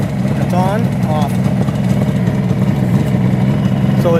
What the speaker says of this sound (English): So it's idling without the choke.